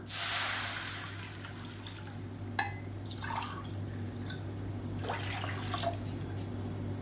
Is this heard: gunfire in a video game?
no